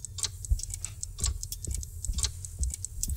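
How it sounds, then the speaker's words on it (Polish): Clock ticking inside a museum room in Alone in the Dark, crisp regular ticks repeating close and clear over a low ambient hum, no voices. "Tutaj mamy zegar."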